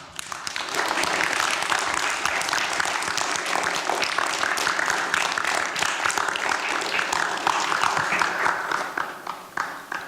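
A festival Q&A audience breaks into sustained applause welcoming Lee Hardcastle, dense and loud clapping that holds for several seconds before easing slightly.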